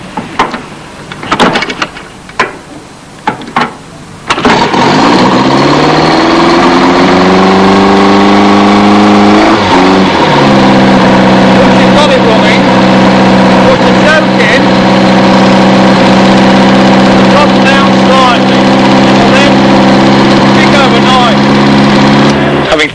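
A Green Goddess fire engine's pump engine is swung over by hand with choke out, then catches and settles into a steady, loud mid-pitched idle that runs on alone for most of the clip.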